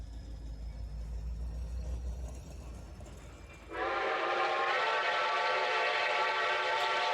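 Locomotive 3412 rumbles along old Pennsylvania Railroad tracks, a low engine drone fading before a loud, sustained horn blast cuts in and holds steady, sounding fairly close.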